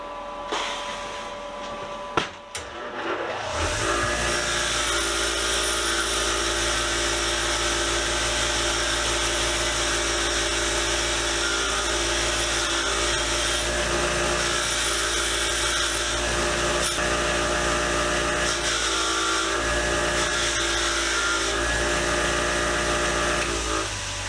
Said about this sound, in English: we go and we take this to the wire wheel and see what we got